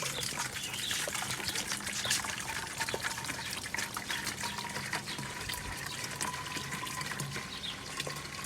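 Water runs steadily from a tap into a jug, mixing with concentrated composite deck cleaner outdoors, a constant close splashing trickle with faint birdsong behind and no talking.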